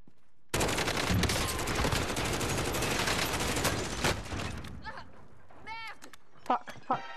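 Dense gunfire in Call of Duty Warzone, a loud sustained burst of rapid shots lasting several seconds that then breaks off into scattered sounds and a few short voice-like bursts near the end.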